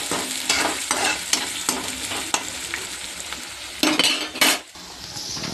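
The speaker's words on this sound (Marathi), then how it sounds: "कांदा व्यवस्थित आपण मऊ असा परतून घेऊयात. त्याच्यानंतर टोमॅटो टाकूया." Onion and tomato sizzle and fry in a pan while a utensil scrapes and stirs, with clinks of metal against the pan and a steady frying hiss underneath.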